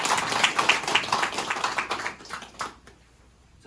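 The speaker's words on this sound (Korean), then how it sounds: "이분들한테 박수 한번 보내주세요." Audience applause at a Democratic Party Mapo district New Year gathering, a dense patter of many hands clapping for a few seconds, then fading out near the end; no talking over it.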